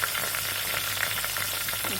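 Green chillies fry with whole spices such as stone flower, bay leaf, cloves and cardamom in hot oil for a spicy mutton curry, giving a steady close sizzle with light stirring and no talk.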